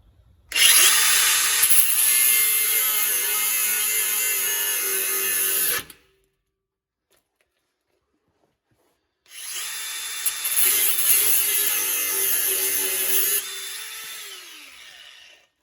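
A power drill bores through metal on a Land Rover Defender TD5 exhaust in two long, loud, high-pitched bursts, separated by several seconds of silence, the second burst trailing off as it slows.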